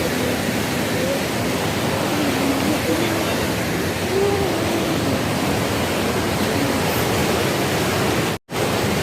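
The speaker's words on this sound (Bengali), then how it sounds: "নিচে তখন পুরো প্রচণ্ড স্রোতে পার্বতী নদী পৌঁছে গেছে" The Parvati river at Kasol in Himachal Pradesh rushes with a strong current below a bridge, making a dense steady roar of water. A faint voice sits beneath it, and the sound breaks off briefly near the end.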